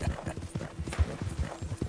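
Horse hooves clip-clopping in Red Dead Redemption as Arthur rides his horse, a steady trotting rhythm of close, muffled thuds with a faint whinny, no talk.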